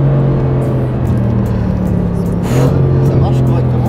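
A Brabus biturbo car's engine and exhaust rumble with a loud, sustained low drone that swells into a rev near the middle, close by.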